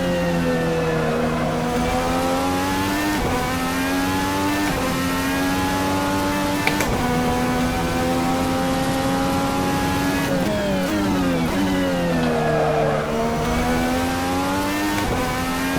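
A 2020 IndyCar engine in the racing game Assetto Corsa roars continuously, pitch climbing and dropping through gear changes and revs, loud and close, with no talking.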